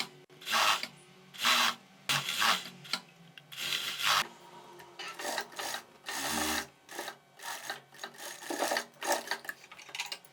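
A straight-stitch sewing machine joins a sleeve to a dress bodice in short, quiet bursts of rapid stitching separated by brief pauses, close and alone.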